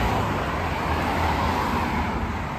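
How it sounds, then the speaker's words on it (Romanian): Cars drive past along a street in Cyprus as a steady, moderately loud wash of road traffic noise that continues without breaks and without talking. "Mașinile merg în sens opus."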